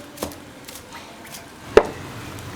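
A knife chops scallions and garlic on a cutting board in a home kitchen, with a few soft scattered cuts and one sharper, louder chop near the end, close by and without talk.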